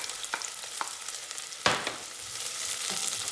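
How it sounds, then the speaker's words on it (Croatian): Red onion hits hot oil for a soup and frying starts, a broad steady hiss with a few stirring clicks and one sharp knock near the middle, close by, with no voices. "Ovdje sam već ulila ulja i tu dodajem crveni luk."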